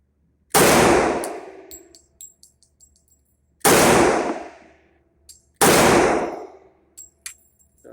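Three single-action shots from a Smith & Wesson 4006 pistol in .40 S&W, each a sharp, loud crack with a long ringing decay, spaced about three seconds apart, with faint clinks in between and no talking.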